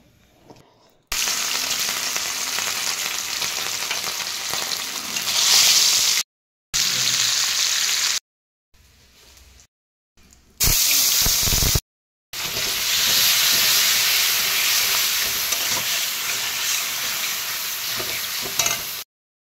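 Fish frying and being stirred in a hot pan, a steady loud sizzle with stirring scrapes, broken by several short gaps where the sound drops out.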